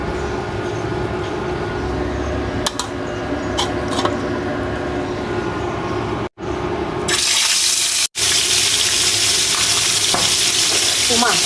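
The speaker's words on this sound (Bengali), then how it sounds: "মাছ ভাজে নেওয়া হয়ে গেছে" Fish, including a koi fish, frying in leftover oil in a kadai, stirred with a spatula, with a steady close sizzle that grows brighter and louder midway and a few scraping stirs.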